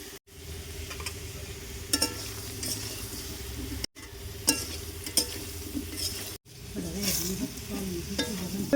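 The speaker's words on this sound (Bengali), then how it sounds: "আবারও নেড়ে চেড়ে একদম লাল লাল করে আলুগুলোকে ভেজে নেব" Potatoes fry with turmeric in a pan, a steady low sizzle broken by several scraping, clinking strokes of stirring at close range, with no voices.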